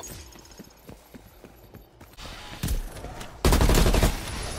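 Gunfire in Call of Duty Cold War: a series of sharp shots gives way to louder, denser bursts of rapid fire near the end, with no talk.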